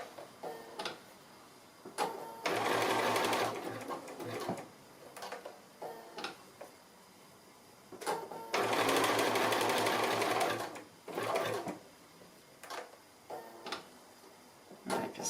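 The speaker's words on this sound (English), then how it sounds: "then back to the sewing machine" Sewing machine stitching a coiled fabric bowl, two long bursts of rapid even needle clatter separated by quiet ticks and clicks of handling the work.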